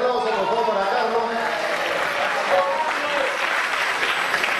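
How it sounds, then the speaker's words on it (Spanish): An audience applauds for a man named Carlos on a program, steady dense clapping filling the whole stretch, loud and close, with a few voices mixed in. "que tiene un fuerte aplauso, por favor, para Carlos."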